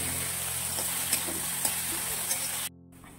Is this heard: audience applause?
no